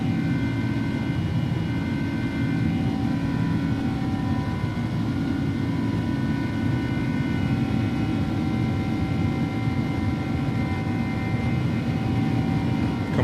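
Jet engines of an iniBuilds Airbus A300 at takeoff power in X-Plane 11, a loud, continuous roar with a steady whine on top, unbroken throughout and with no voices.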